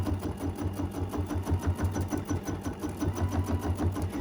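A quilting machine stitches a small mini quilt in a fast, even, pulsing chatter of needle strokes, close and steady, with no talk.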